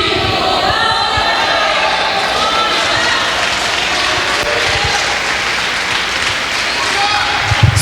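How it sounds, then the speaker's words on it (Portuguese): Loud, dense applause from a church congregation at a conference, sustained and energetic with crowd noise and scattered shouts, filling the space continuously and close by. "Aplauda o Senhor com mais força"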